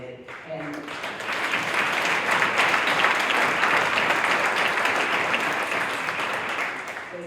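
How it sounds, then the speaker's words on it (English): A gala audience at an annual Juneteenth inclusive equity event applauds the event staff, a dense, sustained round of clapping that swells quickly and holds steady for several seconds. "I want to give just a round of applause to the staff who helped pull together this event"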